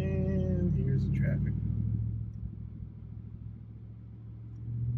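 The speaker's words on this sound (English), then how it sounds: "Gotta love downtown Dallas traffic." Low engine rumble of a truck idling and creeping through downtown Dallas traffic, heard from inside the cab; a steady, fairly loud drone that eases slightly midway, with voices talking over it.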